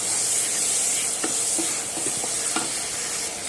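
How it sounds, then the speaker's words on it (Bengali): Liver fried with salt and turmeric for a dark bhuna, giving a loud, constant hiss of frying throughout, with scattered spoon scrapes and taps as it is stirred. "হাফ চামচ পরিমাণ হলুদের গুঁড়ো দিয়ে ভালো করে নেড়ে চেড়ে ফ্রাই করে নেব"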